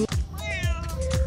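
A domestic cat gives a single clear, drawn-out meow, close and fairly loud, heard alone without talk.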